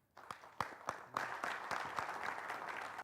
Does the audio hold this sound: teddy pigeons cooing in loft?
no